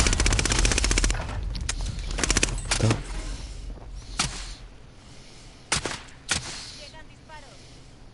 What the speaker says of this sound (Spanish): Llegan disparos.